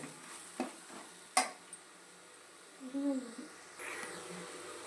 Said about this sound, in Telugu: దాన్ని మనం చూసుకుని అస్తమానం గరిటితో కలుపుకుంటా ఉండాలి